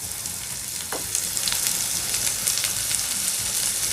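Onions and curry leaves frying in a pan for chicken liver fry, a steady close crackling sizzle with occasional pops and a soft stir scrape, continuous and without speech.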